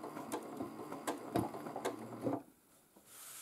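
A sewing machine used for free-motion stitching with dark thread runs in quick rhythmic ticks and clatters, close and moderately quiet, then drops to a softer hum near the end.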